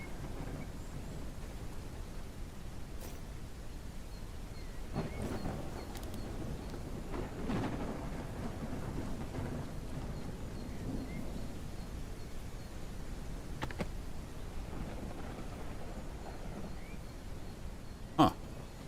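Steady hiss of rain during a thunderstorm in an open-world survival crafting video game, continuous and even throughout, with occasional faint crackles and a brief sharp peak near the end, no talk.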